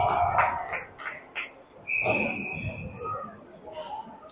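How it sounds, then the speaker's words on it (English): One sharp, sustained referee whistle blast for icing lasting about a second rings out over muffled ice hockey arena noise and indistinct voices. "And whistle blows. Icing call, I believe."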